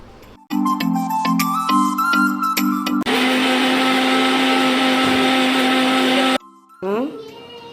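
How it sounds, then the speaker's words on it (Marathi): A kitchen mixer grinding garlic and lemon juice into a paste with no water added: the motor whines up in short pulses, then runs steadily for several seconds before it stops, with a voice briefly heard around it. "हे अशेंच आमकां वांटून घेवूं जाय पेस्ट करपा जाय हेची"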